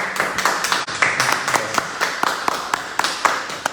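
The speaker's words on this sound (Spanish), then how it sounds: "para quien de entrada yo pido un fuerte aplauso" Audience applause for a lecturer introduced at a talk on Maya emblem glyphs, heard as fairly sparse, sharp individual claps in an uneven rhythm, close and distinct rather than a dense roar.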